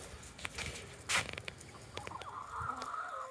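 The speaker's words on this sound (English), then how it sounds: "Stinking yard birds" Chickens cluck in short scattered bursts in a yard nearby, with soft rustling and pattering in between and a longer clucking call near the end.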